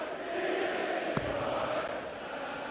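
A large darts crowd at the PDC World Darts Championship sings Ian White's name in a sustained, far-off chant that fills the hall. A brief knock cuts in partway through.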